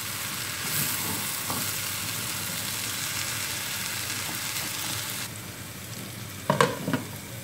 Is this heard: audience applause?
no